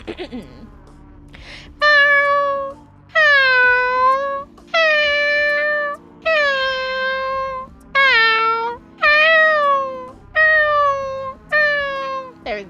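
A video game cat meows repeatedly, about nine loud, drawn-out meows in a steady rhythm with short pauses between them.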